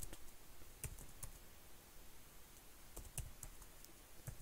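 Computer keyboard typing during a security lab session, with quiet, irregular key clicks in short bursts and pauses, close but faint, with no talk.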